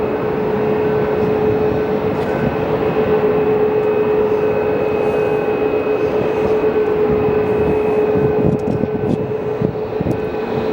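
A Sun Country airliner bound for Minneapolis powers up for takeoff at Phoenix Sky Harbor Airport, with a loud, steady jet roar and a sustained engine whine that hold for several seconds before easing slightly.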